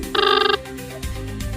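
A telephone rings once in a short electronic burst of chiming tones during a call placed about waterlogged homes in a ward of Haridwar, followed by quiet room noise.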